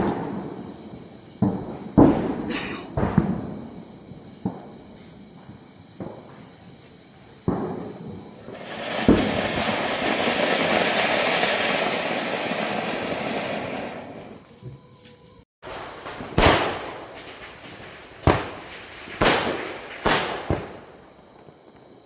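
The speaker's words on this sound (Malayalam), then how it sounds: "ഇതാ ജൂലു പടക്കം പൊട്ടി പേടിച്ചിട്ടിരിക്കുകയാണ്." Firecrackers bursting during Vishu celebrations: sharp single bangs at irregular intervals, a sustained crackling burst of a string of crackers in the middle, then several more loud separate pops, close and prominent.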